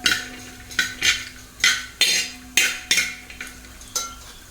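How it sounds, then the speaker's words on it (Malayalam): Cashews and raisins fry in ghee in a pan for kesari, with rhythmic spoon strikes and scrapes about every half second over a soft sizzle, close and clear. "അണ്ടിപ്പരിപ്പ് നിറം മാറിയിട്ട് അതിലേക്ക് നമുക്ക് ഉണക്കമുന്തിരി ഇട്ട് കൊടുക്കാം. ഇളക്കി കൊടുക്കാം."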